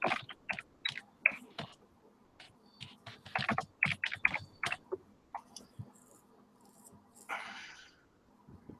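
Rapid, irregular clicking of keys on a computer keyboard, close by, in bursts with short pauses.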